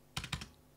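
Two quick keystrokes on a computer keyboard while naming a material in Unreal Engine 4, crisp and close in a quiet room.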